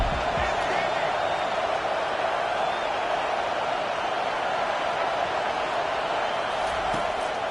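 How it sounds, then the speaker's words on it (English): A football stadium crowd roars on a third-down defensive play, a dense, steady wall of noise that holds loud throughout, with voices talking over it. "Decibels rising as the crowd gets behind this defense on 3rd down."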